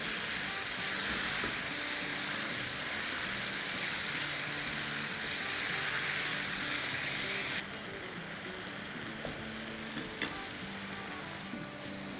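Green keema with yogurt frying in a pan gives off a steady hiss and sizzle, with light scraping and ticking from stirring throughout and a slight drop in the sizzle partway through.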